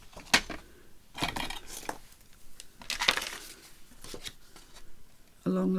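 Scissors snipping through paper envelope template pieces, a series of short crisp cuts and rustles spaced irregularly, close and fairly quiet, with a faint hum at the end.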